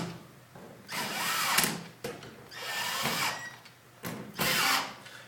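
A Black & Decker VPX cordless lithium-ion drill drives a screw during a keying disc repair, with three loud whirring bursts of motor under load separated by brief pauses, close by and with no talking.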